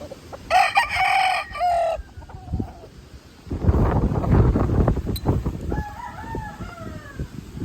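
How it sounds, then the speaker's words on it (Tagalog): A rooster crows loudly and close at the start, a long harmonic call, followed by wind buffeting the microphone and softer clucks and calls from fowl near the coop. "May namamalong manok"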